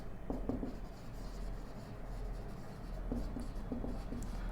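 A pen scratches across paper as a sentence is handwritten, soft close scribbling strokes in irregular bursts with brief pauses between words.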